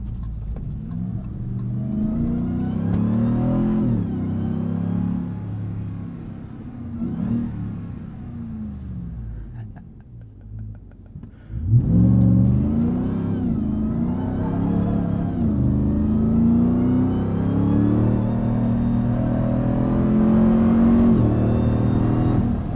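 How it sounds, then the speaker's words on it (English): A 2021 Ram 1500 TRX pickup truck's engine drones and climbs in pitch as it accelerates during a night drive in auto mode, heard from inside the cab. It holds steady, then dips briefly before surging louder again. "I just love driving this thing in auto."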